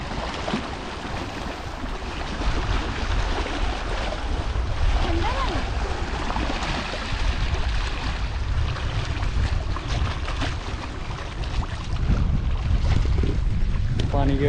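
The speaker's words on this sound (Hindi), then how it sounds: "पानी की आवाज़ सुन के मज़ा आ रहा है ना।" Wind-driven waves lap against the shore of Sukhna Lake in Chandigarh in a steady broadband wash, with gusty wind buffeting the microphone throughout and faint background voices.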